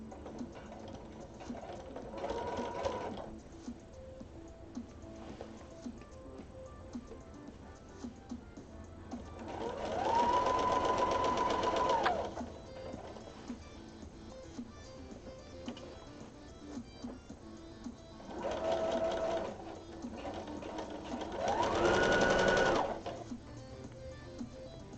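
A sewing machine stitching fabric around a garment armhole in several short runs of steady whirring, close and moderately loud, separated by quieter pauses with handling noise.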